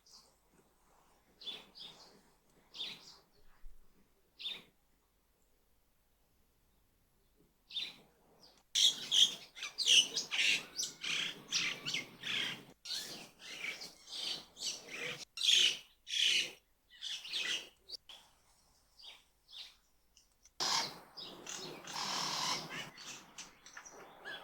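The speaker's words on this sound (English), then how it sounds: "If you play the bird sounds in the background" Recorded birdsong with scattered chirps and calls, sparse and faint at first, then a dense, fairly close chorus of tweets from about nine seconds, with a quiet background hiss.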